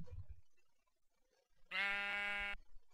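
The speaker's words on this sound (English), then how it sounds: "Look at the little sheep!" A sheep in Minecraft gives a single clear, harmonic bleat lasting under a second, loud and close after a short quiet pause.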